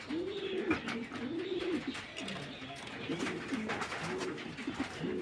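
Pigeons at a large pigeon farm coo in repeated soft, rolling calls at close range over a murmur of background noise, several birds overlapping in a steady rhythm.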